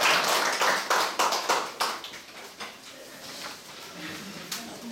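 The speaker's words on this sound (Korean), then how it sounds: "다시 한번 박수 부탁드립니다" Audience applause at the end of a school violence prevention lecture at a middle school in Jeju: dense clapping that starts strong and thins out over several seconds into scattered claps, heard from within the room.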